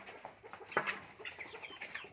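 Chickens cluck softly and intermittently close by, with a few sharper chirps among steady low clucking and no voices.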